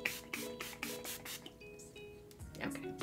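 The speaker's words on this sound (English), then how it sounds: "you're supposed to set it with setting spray" Several quick hissing spritzes of makeup setting spray misted onto a face in the first half, followed by quieter rustling and handling noise.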